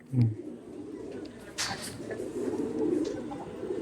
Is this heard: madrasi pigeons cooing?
yes